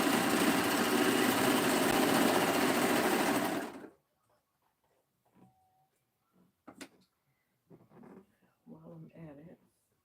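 A sewing machine runs steadily and close for about four seconds while stitching a knit set-in sleeve, then stops abruptly, leaving quiet handling sounds and a person speaking afterward.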